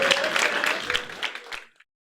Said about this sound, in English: round of applause for Lindsay.